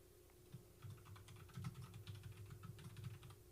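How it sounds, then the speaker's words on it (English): Rapid, feverish typing on a computer keyboard, a quiet, close patter of irregular key clicks running steadily with no voices. "I'm typing rapidly, feverishly."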